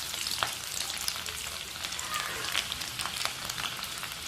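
Chopped garlic sizzles in hot oil in a kadai over low heat, a soft continuous crackle with scattered pops, faint and without voices.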